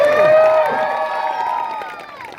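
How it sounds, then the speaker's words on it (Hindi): Crowd at a village Teeja festival prize-giving in Chhattisgarh, a short burst of cheering and clapping with high voices, loud at first and fading over a couple of seconds. "एक बार जोरदार ताली बजा दो"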